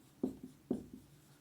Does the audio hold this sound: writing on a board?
yes